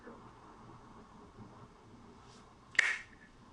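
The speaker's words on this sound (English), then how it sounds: "When I snap my fingers," A single sharp finger snap cracks out near the end, close and distinct, after a quiet stretch of faint background hum.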